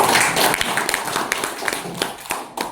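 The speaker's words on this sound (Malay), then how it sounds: "Tepuk tangan buat beliau." Audience members at a discussion forum in Jogjakarta clap, starting as a thick burst of applause and thinning into scattered, distinct individual claps as it fades.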